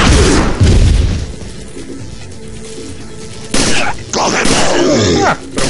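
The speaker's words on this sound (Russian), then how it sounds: "Сейчас мы потратим патроны." Gunshots in Resident Evil 4: Assignment Ada, several loud booming shots with heavy echoing tails, spaced a few seconds apart, with quieter game sound between them.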